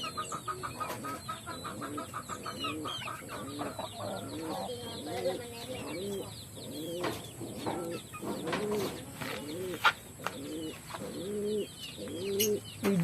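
Pigeons cooing around a backyard loft, with hens clucking among them. A dense, steady run of soft repeated coos and clucks, fairly close, with no talk.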